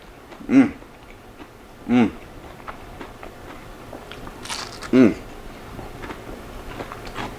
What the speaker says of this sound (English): You're gonna hear this crunch.